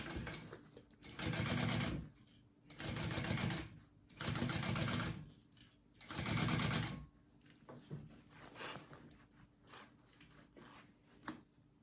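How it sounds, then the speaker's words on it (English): A sewing machine stitches a seam on a phone sling bag in four steady bursts of motor whir, each about a second and a half long with short pauses between, followed by quieter handling clicks and a sharp snap near the end. "I am going to sew that seam up and we will be done."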